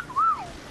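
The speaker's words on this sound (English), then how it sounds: "He just whistled at me" A video game character gives a single short whistle, a clear swooping tone that rises then glides down, heard alone over quiet background noise.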